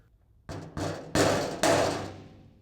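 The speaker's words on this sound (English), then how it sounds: "tap in your threaded insert" Four sharp hammer strikes tapping a threaded insert into a pickup truck bed, spaced about half a second apart, each ringing briefly before the next, close and fairly loud.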